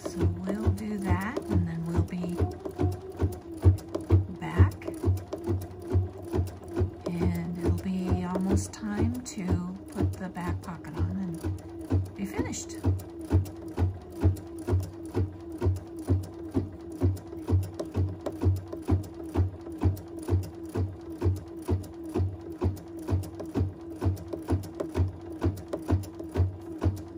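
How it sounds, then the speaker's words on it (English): An embroidery machine stitching front and back fabric pieces together in the hoop for a sanitizer bottle holder, running with a rapid, steady mechanical rhythm while someone talks over it for the first part. "this is going to take a little while to stitch around this and attach the back piece"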